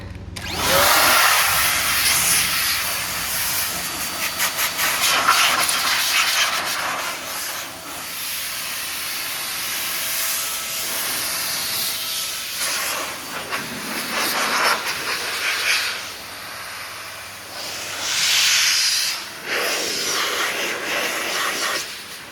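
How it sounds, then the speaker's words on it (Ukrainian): A turbo dryer blasts air over a freshly washed car at a detailing wash, a loud continuous rushing hiss that swells and dips as the nozzle moves, with no talk. "продули значить, турбосушкою"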